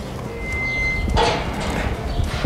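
Hooves of a mature military-bred horse clip-clop on the ground during training as it is brought to a stop, with a few scattered thuds over steady background noise.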